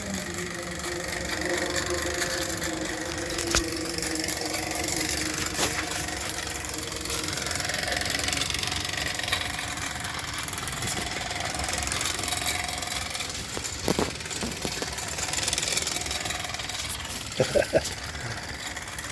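A Mamod TE1-A model steam engine runs on 3D printed tires, giving a steady dense rumble of mechanical chuffing and rattling that continues at an even level throughout, with a few sharper knocks near the end.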